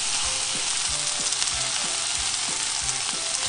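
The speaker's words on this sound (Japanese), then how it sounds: "またコロコロ転がしてさ、全体の面にしっかり焼き目をつけていく" Steady, close sizzling as meat-wrapped tofu rolls and browns in a frying pan, with light knocks from the pieces being turned and no voices.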